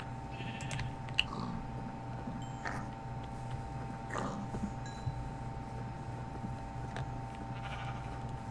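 Several short Minecraft sheep bleats repeat at intervals over a steady electronic hum, with a few light clicks in between.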